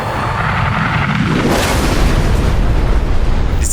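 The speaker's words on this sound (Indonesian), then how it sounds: "pesawat tersebut menghantam kuat ke permukaan dan meledak" A loud, deep explosion of a plane crashing into the ground rumbles and roars, building into a sustained blast of heavy noise with no voices.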